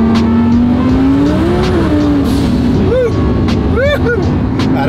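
A twin-turbo Audi R8 accelerates hard, its engine droning loud and steady as the pitch climbs, with quick upshift dips and whooshing turbo sounds near the end, heard from inside the car.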